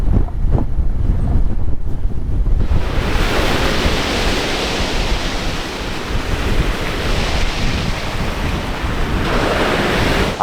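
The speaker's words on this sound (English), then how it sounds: "I wanted to take a few photos over here to capture the motion of the waves and the beach, but it's so damn windy" Surf rolls onto a small beach on a Croatian island in strong wind, a loud continuous roar of breaking waves mixed with heavy wind buffeting the microphone throughout, with no voices.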